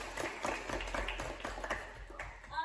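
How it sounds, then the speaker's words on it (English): Applause from an audience at a talk on moving from phlebotomy to software development, a soft, steady patter of clapping that sounds moderately distant and fills the whole stretch. "everybody, round of applause for Litha"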